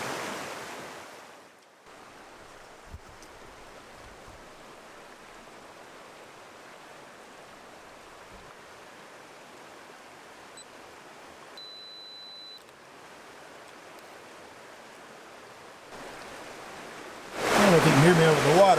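Rushing creek water at Fiery Gizzard makes a steady, broad hiss that stays even through most of the stretch, then swells sharply louder near the end as if closer to the flow.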